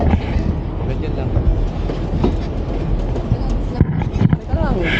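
Riding inside a moving train, with loud rhythmic clickety-clack of wheels over rail joints and a rumbling carriage, while voices talk nearby.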